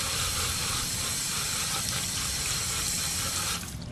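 A hose sprays water steadily over a pickup truck during a rinse, a loud, continuous hissing rush that holds level and eases off slightly at the very end.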